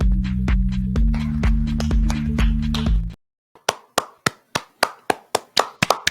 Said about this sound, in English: Oh, I finally heard you clapping